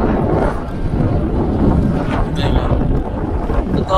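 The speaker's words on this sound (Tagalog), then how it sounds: "malakas talaga hangin" Strong wind at Victoria Peak in Hong Kong, a loud continuous rumble buffeting the microphone for the whole stretch, with no voices.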